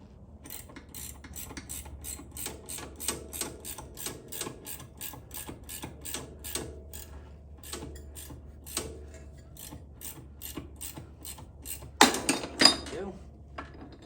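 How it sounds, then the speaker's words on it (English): Metal wrench clinking and ratcheting against the bolts of a Suzuki LTZ 400 quad bike, a steady series of close, sharp taps over several seconds, ending in a louder burst of rattling metal. "I think I'm only gonna be able to get a wrench in there."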